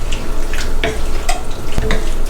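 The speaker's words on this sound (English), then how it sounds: "Very tasty cooking in this butter." Squid stir-frying in butter in a pan, a close, steady sizzle broken by scraping and stirring clatters of a utensil, with no talking.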